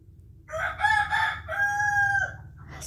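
A rooster crows twice in close succession, a loud, drawn-out cock-a-doodle-doo with strong harmonics, heard alone over a low background hum.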